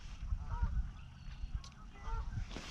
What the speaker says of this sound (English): A lot of geese out here.